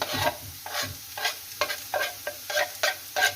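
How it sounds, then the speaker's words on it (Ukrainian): Carrot stirred into lightly golden frying onion in a pan, with a spoon or spatula scraping in a steady rhythm of about eight strokes over a soft sizzle, close and clear with no talking. "Цибульку трошки прижарили, бачите, і додаємо сюди моркву"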